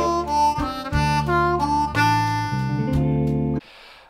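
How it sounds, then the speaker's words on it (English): Blues harmonica in third position, lower octave, running a long unbroken series of triplet notes, thick and reedy with dense chordal tones, played solo and close before cutting off abruptly into a brief breathy hiss. "Okay, so this is a big long series of triplets."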